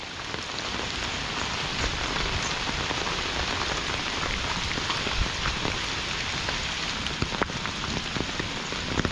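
Monsoon rain in the Konkan region pours down steadily, a dense even hiss of drops on surfaces with occasional sharper splashes, heard alone with no voices.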